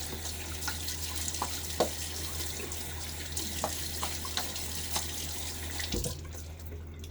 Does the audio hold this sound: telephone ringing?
no